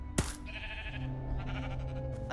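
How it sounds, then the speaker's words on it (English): A sheep from a spawn egg bleats in Minecraft Story Mode, a sharp click followed by a clear, wavering bleat up close, with light game ambience underneath. "A sheep?"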